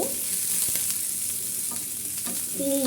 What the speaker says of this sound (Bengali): তারপর দিয়ে দেবো পেঁয়াজ কুচি কয়েকটি শুকনা মরিচ খুব ভালো করে বেরেস্তা করে নিব